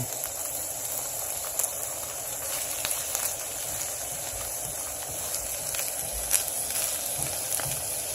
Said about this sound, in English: So we're just scrambling up this egg.